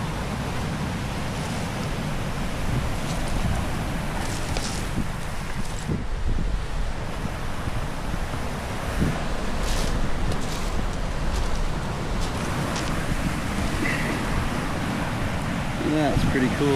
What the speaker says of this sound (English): The force of the waves will just push these stones higher and higher up the bank.